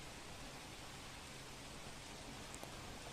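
Steady, dense wash of heavy monsoon rain in Banaskantha, with waterlogged highways and stalled traffic nearby, hissing evenly and continuously with no clear breaks or voices.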